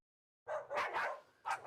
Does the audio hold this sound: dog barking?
yes